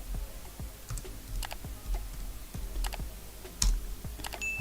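A name is typed on a computer keyboard as a run of close, crisp key clicks at an uneven pace, with a few louder strokes standing out.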